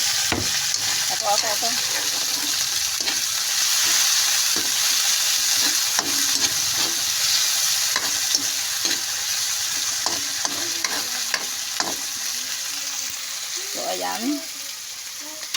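Tomatoes frying and being stirred in a pan, a loud continuous sizzle with repeated scraping strokes, while someone talks over it.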